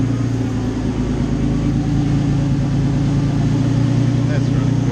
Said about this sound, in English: in gear, just idling away in first gear